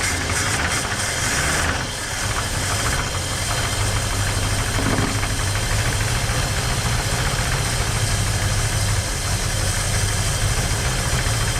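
A 1968 Ford Mustang engine, revived after sitting for 30 years, runs steadily and loudly throughout, a rough idle with a knocking, uneven throb close by.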